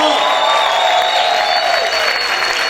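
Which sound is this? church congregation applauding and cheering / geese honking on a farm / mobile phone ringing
church congregation applauding and cheering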